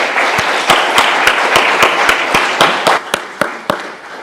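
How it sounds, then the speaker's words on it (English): An audience gives panelists a final round of applause at a research talk. The clapping is a dense, close patter, with several sharp, regularly spaced claps standing out above it. "Let's give one final round of applause to our panelists."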